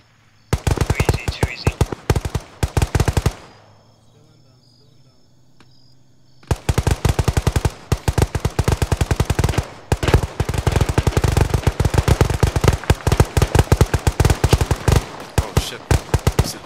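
Bursts of machine gun fire with tracers in the video game ArmA, rapid sharp rattling volleys, a short burst, a pause of a few seconds, then long sustained loud firing.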